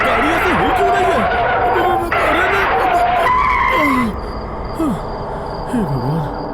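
Car tyres skid and squeal in repeated gliding swoops over a loud, steady engine and road roar, with a dense burst of noise at each slide; the car is misbehaving on a road in a Hindi-dubbed horror film.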